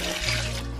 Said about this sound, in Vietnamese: Bây giờ chúng ta xả nước và chúng ta rửa sạch.